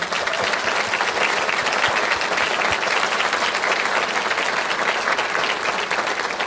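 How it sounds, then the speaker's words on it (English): Audience at an Idaho Lt. Governor event in Coeur d'Alene applauds Tom Schultz of Idaho Forest Group, a steady dense wash of many hands clapping that stays loud and even throughout. "Let's give a big round of applause for Tom Schultz from Idaho Forest Group."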